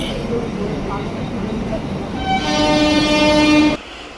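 A Mumbai suburban local train rumbles nearby at Thane station, then a loud horn sounds steadily for over a second before cutting off abruptly.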